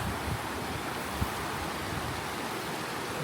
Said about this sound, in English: There's a look at the stream that you cross. Water's flowing pretty good.